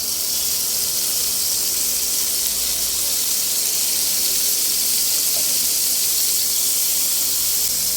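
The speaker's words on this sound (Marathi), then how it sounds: "मी एक एक करून याच्यामध्ये पनीर घालून घेणार आहे आणि ते छान असं शॅलो फ्राय करून घेणार आहे" Paneer shallow frying in oil in a pan gives a loud, steady, close sizzle, a continuous bright hiss that keeps going without a break and with no talking.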